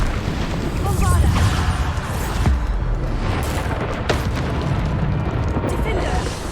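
Spell explosions from the Bombarda curse in the Hogwarts Legacy video game, a string of booming bursts with one sharp crack, loud and busy over game rumble, with a voice calling out between blasts.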